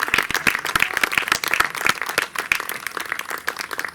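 Audience applause at an outdoor folk music festival in a village square, dense rapid clapping from a modest crowd, steady and moderately loud, with no voices on top.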